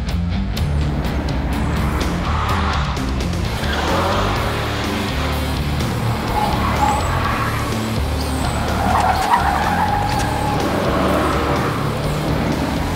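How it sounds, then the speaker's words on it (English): A car skids hard with the brakes locked during a driving run, tires squealing and scrubbing over a loud engine roar that continues unbroken for the whole stretch. "A lot of brake lockup."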